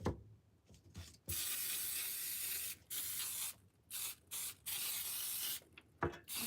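Several bursts of aerosol spray glue hissing over a basket, some long and some short, separated by brief pauses, close and fairly quiet.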